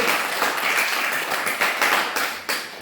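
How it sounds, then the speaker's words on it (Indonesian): Students in a classroom clap for a classmate, a loose burst of many hands with uneven individual claps standing out, fairly close and continuous throughout. "Tepuk tangan dulu buat Indra"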